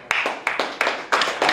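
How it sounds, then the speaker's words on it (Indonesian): Five sharp, evenly spaced hand claps ring out from a congregation at a church service, close and loud, with no voices between them. "Berikan sorak-sorai."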